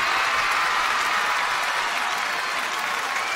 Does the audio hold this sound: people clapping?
yes